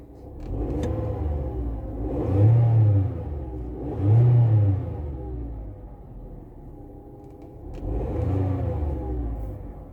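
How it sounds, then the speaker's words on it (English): A car engine revs three times in separate bursts, each rising and falling in pitch over a steady idle, heard close with no talking. "If I try to rev the accelerator"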